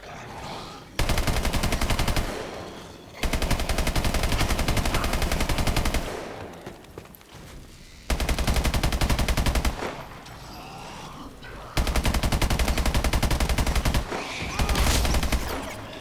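Automatic gunfire in Call of Duty Advanced Warfare, loud and close, in long sustained bursts of rapid shots separated by short quieter gaps.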